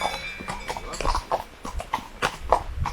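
A horse walks along the Camino with a rider aboard, its hooves clip-clopping in a steady, close rhythm throughout.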